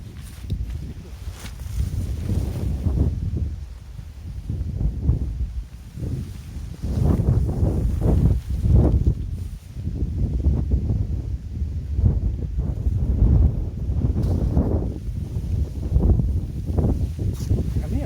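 Strong gusting wind at a coastal campsite in Hokkaido, buffeting the microphone with heavy low rumbling blasts that rise and fall in surges throughout, loud and close, with no clear voices.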